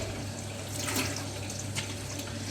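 Tap water runs steadily into a sink while hands are rinsed under it, a close continuous splashing with brief louder surges as the hands move through the stream.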